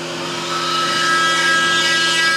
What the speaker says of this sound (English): Catch a tool change from the back.